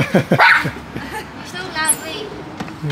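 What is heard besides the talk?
dog barking and yipping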